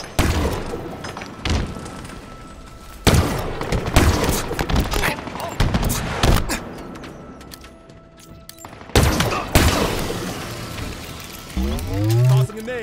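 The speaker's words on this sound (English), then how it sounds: "Tossing a nade." A grenade tossed in the Halo video game explodes in a loud burst, set among repeated heavy thumps and bangs of game combat, with sweeping mechanical whirs near the end.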